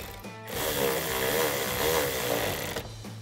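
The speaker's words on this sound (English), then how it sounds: "we'll go ahead and insert our 6 millimeter screw here" A power driver drives a 6 mm screw into a panel on a 2007-2014 Ford F-150 during a towing mirror install, giving a steady close whirring whine for about two seconds before stopping.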